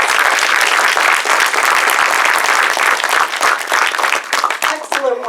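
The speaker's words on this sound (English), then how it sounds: "Can we have a hand of applause?" Loud, close audience applause for finalists at a Three Minute Thesis final, a dense burst of many hands clapping that thins toward the end as a voice begins to speak over it.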